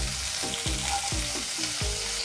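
Small potato pieces stir-frying with curry leaves and dried chillies, a constant hissing sizzle marked by several regular spatula scrapes, close and even in level with no talking.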